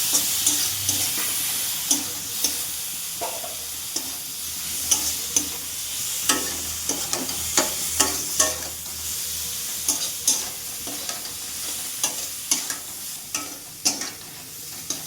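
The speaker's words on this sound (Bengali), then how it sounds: "মরিচটা সামান্য একটু দিলাম, একটু নাড়বো" Cumin, chili and spices frying in a pan while a spoon stirs them, a soft continuous sizzle punctuated by regular sharp scrapes and clinks against the pan, close up.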